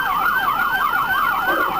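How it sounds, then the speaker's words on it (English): A rapid warbling police siren wails loudly and nearby, its pitch sweeping up and down in quick repeating cycles over road noise. "This guy's turning off sirens."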